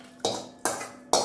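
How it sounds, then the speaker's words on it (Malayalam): Onion curry is moved into a vessel with three sharp metallic scrapes and knocks of a spoon against the pot, spaced evenly, close and clear, with no talking. "ഇനി ഒരു പാത്രത്തിലേക്ക് മാറ്റട്ടെ"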